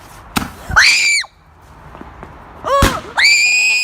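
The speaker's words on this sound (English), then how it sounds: "Okay, let's go. Roman candle." Roman candle fireworks on bonfire night fire sharp pops, with whistling, squealing bursts and excited screams layered over them in two close, loud rounds.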